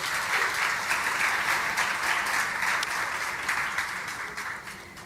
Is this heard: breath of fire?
no